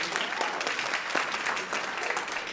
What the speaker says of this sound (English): How about a round of applause for these 8 wonderful speakers?